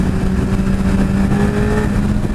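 A 2016 Suzuki Hayabusa accelerates hard in third gear, a steady, loud engine whine with rising pitch under heavy wind rush, heard from the rider's position.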